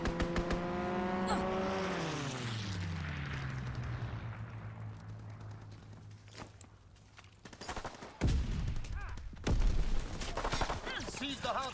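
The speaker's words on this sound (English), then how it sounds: "Fighter pilot inbound, strafing the target." Fighter plane strafing run in a World War II–style competitive shooter, with an engine's falling drone sweeping past followed by bursts of rapid gunfire and impacts, loud and close.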